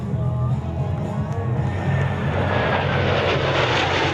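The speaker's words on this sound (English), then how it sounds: "The Blue Angels headlined as they performed unimaginable maneuvers." Blue Angels military jets roar overhead during air show maneuvers, a loud, continuous engine rush with rising whine tones. Faint crowd noise sits underneath.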